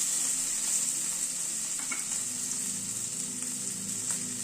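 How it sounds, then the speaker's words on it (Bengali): Potato pieces frying in a pan with salt and turmeric, a steady bright hiss of oil with occasional soft stirring clicks. "নুন হলুদ দিয়ে আলুটাকে মিনিট 2 সময় ধরে একটু ভেজে নিলাম।"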